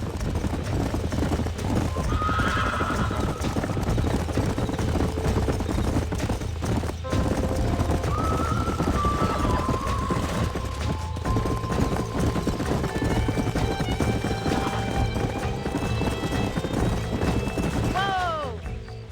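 Steady hoofbeats of horses galloping in Red Dead Redemption, a continuous clip-clop under music, with a brief whinny near the end.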